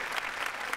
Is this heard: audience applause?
yes